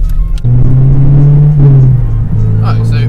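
A Honda Civic Type R EP3 engine hums loud and close during a gentle second-to-third gear change, a steady drone that dips briefly and resumes, with a voice talking faintly.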